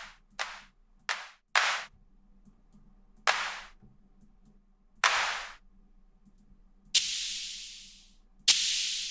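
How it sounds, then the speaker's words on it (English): Synthesized TR-808 style maracas and clap patch built in a software patcher, eight separate hissy noise bursts with decaying tails, some short and tight, later ones longer, over near-silence. "that is the maracas and the clap"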